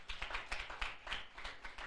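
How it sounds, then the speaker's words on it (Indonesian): A church congregation claps for God at a Sunday service, a quick rhythmic run of hand claps at steady tempo, moderately distant and fairly faint, with no talk over it. "Berikan tepuk tangan buat Tuhan."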